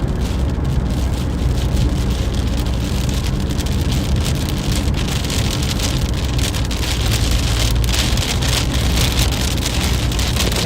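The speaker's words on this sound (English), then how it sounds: "Here comes the rain again." Heavy rain pours steadily during a strong thunderstorm in Missouri, a dense, loud, continuous hiss of drops hitting surfaces, with a low rumble underneath and no speech.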